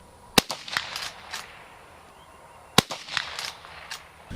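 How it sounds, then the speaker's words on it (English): Two sharp, loud gunshots go off about two seconds apart at an outdoor shooting range, each followed by a brief echo and faint rustling and handling noise. "Now firing."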